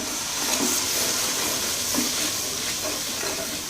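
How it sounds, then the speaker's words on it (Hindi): Steady loud sizzling and hissing of turmeric, salt and spices roasting with a little water in a hot pan for kadhi pakora, continuous throughout with faint stirring movements. "मसाले को 2 मिनट भूनना है।"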